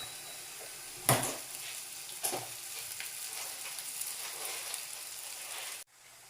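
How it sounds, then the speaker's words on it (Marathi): Turmeric is stir-fried in a hot pan, giving a steady, close sizzle with a couple of sharp scraping clatters from stirring before the sound cuts off abruptly near the end. "हळद टाकली आता थोडीशी म्हणजे परतू परतू टाकूया आता"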